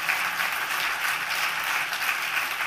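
Steady, dense applause from an audience at an ethics prize award ceremony, many hands clapping evenly throughout with no voices over it.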